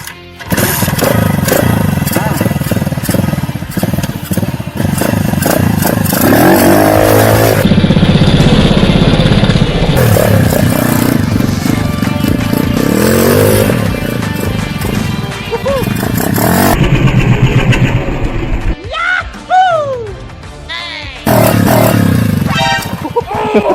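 A modified Kayo 125cc Chinese motocross dirt bike with a 57 mm piston revs loudly and close, its engine buzzing and surging in repeated bursts over a long, continuous stretch, with other sounds mixed in.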